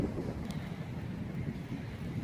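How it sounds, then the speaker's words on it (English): Wind gusting across a small Victorian-style train station, a low continuous rumble buffeting the microphone, fairly loud and close with no voices. "It's a bit windy, so I hope you can hear okay."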